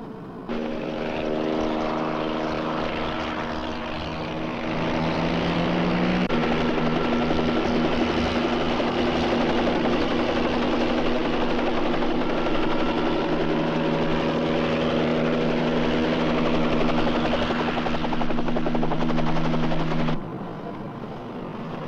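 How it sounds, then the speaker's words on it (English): A helicopter in a 1974 crime thriller film thunders close overhead with a steady, throbbing rotor drone that stays loud and continuous throughout. "Helicopter's onto us."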